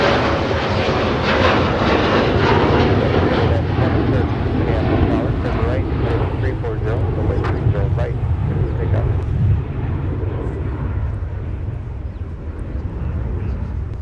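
An airliner at Minneapolis airport rolls for takeoff on runway 30 left, its jet engines a loud, steady broadband roar that holds throughout with slight swelling, while distant radio chatter sits faintly underneath.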